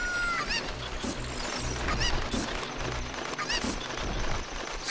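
A chicken in a Zelda Ocarina of Time hack clucks and squawks repeatedly in short bursts over dense, continuous game noise.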